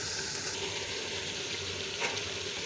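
Kachnar keema with tomatoes and yogurt fries in a pan, giving a steady, close sizzle that holds evenly throughout with no talk.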